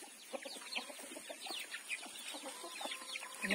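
Several chickens cluck continuously in a rapid, overlapping chatter, fairly faint and steady throughout, with no talking.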